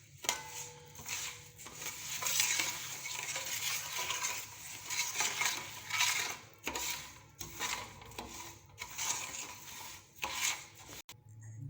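Spices being stirred into pickle oil for a mixed vegetable achar, a steady close scraping and rubbing of a spoon against the vessel that runs nearly continuously with a few short pauses and no talking.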